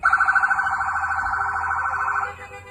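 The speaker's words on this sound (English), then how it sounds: "federal vehicles start moving toward the maroon SUV, with sirens and lights blaring" Federal vehicle sirens wail in a steady, rapidly pulsing electronic tone as the vehicles move toward a maroon SUV, loud and close, cutting off abruptly near the end.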